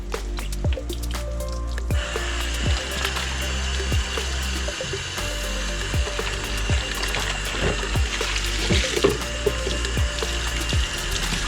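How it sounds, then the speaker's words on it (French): Water from a bucket splashes and pours over a mountain bike, then the bucket is rinsed, with a steady wet rush punctuated by repeated dripping and sloshing impacts, close and fairly loud throughout. "Et je profite de vider le reste du seau sur le vélo. Et je rince le seau."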